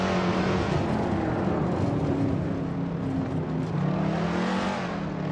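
A Shelby Cobra driven at the Nordschleife in Assetto Corsa roars with a loud, steady engine drone, its pitch rising and falling as the throttle is worked, with no talking.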